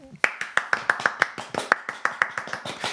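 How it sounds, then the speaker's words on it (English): Audience clapping aboard a Delta Airlines flight, a steady run of sharp, evenly spaced claps close by that continues throughout with no talk. "There's a lot of clapping. So much clapping."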